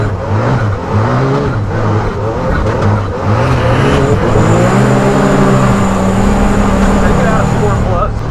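A Can-Am Maverick R UTV drives with its engine revving up and down as the transmission hunts for a gear, the pitch rising and falling in uneven surges, while people talk over the engine.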